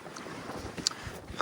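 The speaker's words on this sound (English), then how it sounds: "It is windy at the Red Sea" Wind gusts across the open deck of a Red Sea liveaboard dive boat, a steady broadband rush with a few brief buffets, close to the microphone and with no talking.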